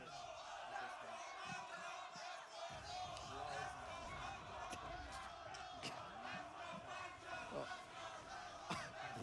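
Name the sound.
crowd cheering and chanting at a tournament final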